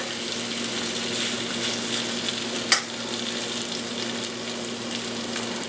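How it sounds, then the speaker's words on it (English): Constant loud sizzling and crackling of zucchini garden burgers frying in hot canola oil, with a brief sharp clink partway through. "I'm frying them in just canola"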